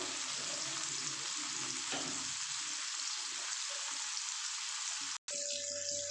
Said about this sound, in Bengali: পেঁয়াজটা হালকা করে আগে ভেজে নিই